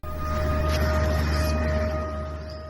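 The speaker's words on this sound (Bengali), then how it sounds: "বৃহস্পতিবার সকাল হঠাৎই সাইরেনের শব্দে কেঁপে ওঠে লাহোরের ওয়ালটন রোড এলাকা" An air raid siren sounds across the Walton Road area of Lahore in the morning, a loud sustained wailing tone over a low rumble, holding steady before easing slightly at the end.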